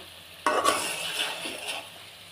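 Fish stirred into cooked spice paste in a pan, a sudden burst of stirring and sizzling that settles into steady frying with occasional soft clinks of a utensil.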